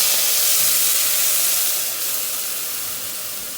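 Onions are dropped into hot oil with panch phoron for a Bangladeshi katla fish head curry, giving a loud, steady hissing sizzle that eases slightly partway through, with no talking.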